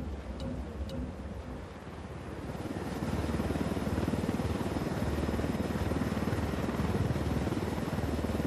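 Helicopter flying low in Ghost Recon Wildlands, a steady rotor drone that swells louder after a few seconds and holds close and strong, with no voices.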